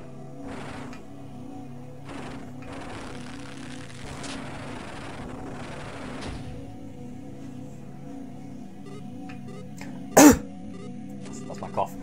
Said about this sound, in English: That's my cough.